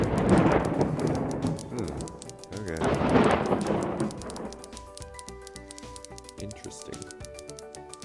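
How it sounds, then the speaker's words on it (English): Thunder rumbles and rain falls from a rain cloud in the WorldBox game, two rolling swells of thunder giving way to patter, while a voice speaks briefly over it. "There's a rain cloud somewhere I can hear."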